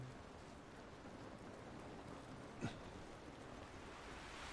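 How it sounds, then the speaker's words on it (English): Soft, steady rain patters in a continuous wash, faint and even, with a single brief louder tap near the middle, in the video game The Last of Us. "It's raining."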